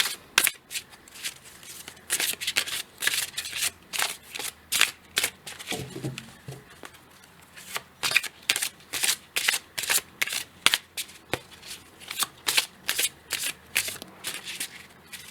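Oracle cards shuffled in rapid rhythmic bursts of crisp riffling, close and fairly quiet, repeating steadily throughout with brief pauses between runs.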